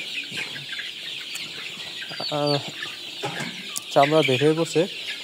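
Chickens on a poultry farm cluck in short, repeated bursts at close range, with brief rustling between calls and a person speaking at times.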